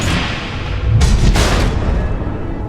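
Missiles exploding in the Batman: The Enemy Within video game, a deep rumbling boom rising about a second in and rolling on into a loud, sustained roar that slowly fades.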